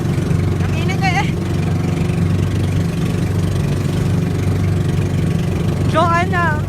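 Motorboat engine drones steadily and loud throughout a sea crossing to Gaspar Island, a constant low rumble filling the clip, while people talk briefly over it near the start and end.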